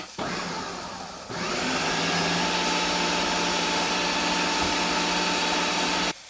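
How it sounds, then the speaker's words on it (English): Hot chicken tinga sauce whirring in a blender, a brief first burst then a steady, loud motor drone that holds for several seconds before cutting off abruptly. "We're gonna literally put all that sauce in the blender."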